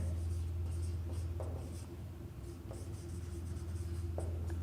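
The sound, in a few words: writing during a lecture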